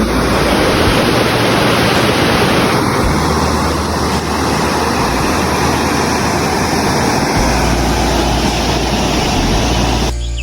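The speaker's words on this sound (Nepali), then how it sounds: "यहाँ खोला हेर्न सक्नुहुन्छ।" A river in a village of Arunachal Pradesh rushes over large stones, a steady, loud broadband roar of flowing water that continues unbroken throughout with no voices.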